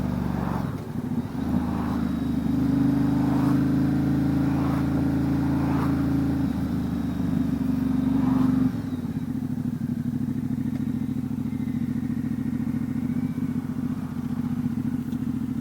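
2019 Ducati Diavel 1260 S fitted with a Termignoni exhaust, riding along with a steady low engine drone, a shift in tone partway through, and wind noise throughout.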